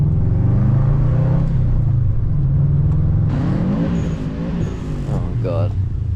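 Subaru GC8 WRX engine accelerating on a drive, a steady rumbling note that rises and holds, heard from inside the car with people talking over it throughout.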